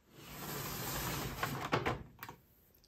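A makeup drawer slides open in a home stash of cosmetics, giving a short rumbling slide followed by a couple of light clicks and knocks, close and fairly quiet with no talking.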